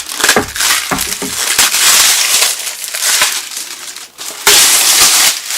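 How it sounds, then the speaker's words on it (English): A brand-new handmade 8.5-inch Sanctus skateboard being pulled out of its packaging, with loud crinkling, crackling plastic wrap and sharp rustles and tears that come in bursts and continue throughout, with no talking. "So I'll get it out of this packaging."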